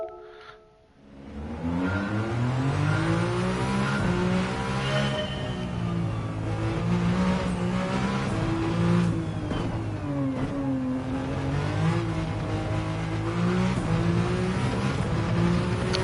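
A race car engine in Gran Turismo 7 revs hard and steadily for about fifteen seconds after a brief quiet start, its loud droning pitch sweeping up and down through gear changes with no voices over it.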